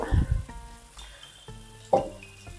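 Chopped small shallots frying in hot oil for a seer fish or tuna curry with mango, a steady close sizzle with a louder crackling burst near the end over a soft musical tune.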